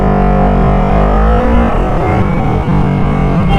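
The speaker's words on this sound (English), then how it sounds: "So sample of tapping the clutch is like this." A Yamaha R3 motorcycle engine revs loudly and close while the clutch is tapped, a steady, buzzing drone whose pitch rises and falls, with a brief dip in the middle.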